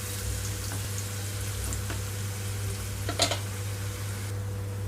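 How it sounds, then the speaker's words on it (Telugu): Onions frying in a pan until light golden for a baby corn masala curry, a steady close sizzle over a low hum, with a brief louder clatter of stirring near the end. "ఇక్కడ ఉల్లిపాయలు మనకి లైట్ గోల్డెన్ కలర్కి వచ్చే వరకు వేయించుకోవాలి"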